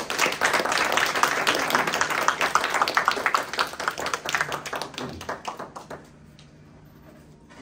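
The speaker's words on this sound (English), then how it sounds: "Please give another round of applause for Richard" Audience applause following a book launch talk on Palestine, Israel and the U.S. Empire in Indianapolis: dense, sustained clapping from a crowd indoors that thins out and fades after about six seconds.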